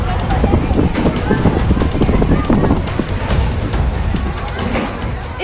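Strong storm winds blow across the Mahakal Lok temple corridor, a loud continuous roar of gusting air buffeting the microphone, with broadband rumble that rises and falls throughout and no clear speech.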